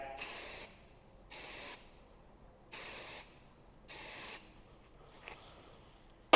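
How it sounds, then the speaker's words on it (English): Weld spray dye penetrant applied to a weld from about a foot away, heard as four even hissing bursts of roughly half a second each, separated by brief pauses, close and fairly loud. "I apply my penetrant. And today I want to mention we're using what's called Weld spray."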